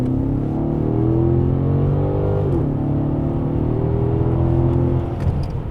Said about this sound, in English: there's no way we can drive an S550 and not do a little bit of an acceleration with it